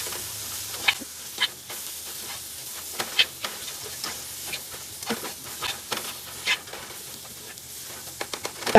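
Tomato and soya chunks for a Kerala-style soya varattiyathu stirred in a hot pan, giving a steady sizzle and hiss with frequent scraping spoon strokes throughout.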